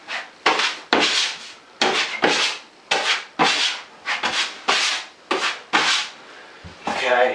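Steel taping knife skimming joint compound over drywall during a bathroom renovation, about ten broad scraping strokes in steady rhythm, close and loud, with short pauses between passes.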